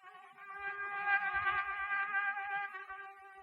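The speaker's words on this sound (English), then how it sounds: "It is the sound of the malaria-bearing Anopheles mosquito." Malaria-bearing Anopheles mosquitoes buzz in the Hula Valley, a steady, thin, droning whine that swells and holds for several seconds, with faint low knocks beneath.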